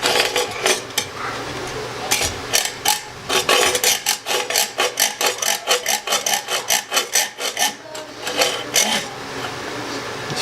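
Hand saw cutting through a toilet bolt beside the nut, a close rasping metal scrape repeated in quick, regular back-and-forth strokes that speed up into a steady rhythm, with no talk.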